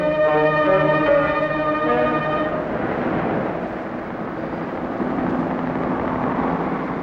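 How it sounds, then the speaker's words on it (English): A police helicopter circles over a city in a 1957 production, first as a steady droning hum with tonal overtones, then fading into a loud, continuous rushing whir. "Whirling over the city, a police helicopter reports traffic movement to the operations center."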